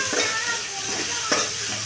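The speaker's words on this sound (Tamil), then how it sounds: "இப்போ நம்ம பச்சை மிளகாய் போட்டுக்கலாம், கருவேப்பிலையும் போட்டுக்கலாம்." Green chillies and curry leaves frying in hot oil for a soya chunks gravy, giving a continuous bright sizzle with a couple of soft stirring knocks, close and without talk.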